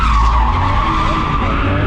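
Tires screech loudly and steadily as a car slides sideways in a drift, a continuous close skid with engine drone underneath and no voices.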